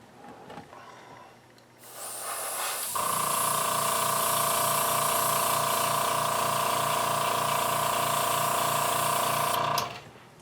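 An airbrush sprays paint onto a Refit Enterprise starship model kit, a steady loud hiss that starts after a short pause and runs continuously for about seven seconds before cutting off, with a compressor hum underneath.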